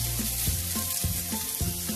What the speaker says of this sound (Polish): nalewamy olej i będziemy smażyć cebulkę